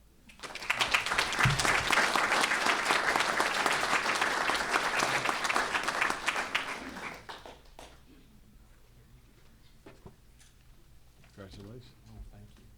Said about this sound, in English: I think Bill deserves a round of applause